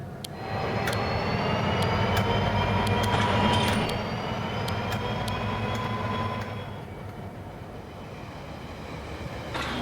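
A train rolls along in the railway game Rolling Line, a steady loud rumble with a sustained tonal whine and faint clicks, easing slightly toward the end.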